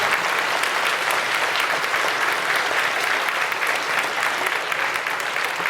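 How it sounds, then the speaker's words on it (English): Steady round of applause from an elementary school audience honoring special guests at a Veterans Day program, dense continuous clapping held at an even level throughout, no voices over it. "how about a nice round of applause?"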